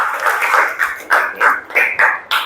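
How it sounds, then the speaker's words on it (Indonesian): Classmates in a school classroom clap for their peers, a short burst of several loud, uneven hand claps up close, with no talking. "beri tepuk tangan yang meriah untuk teman kalian"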